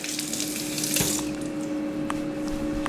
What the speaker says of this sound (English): Just gonna rinse this really quick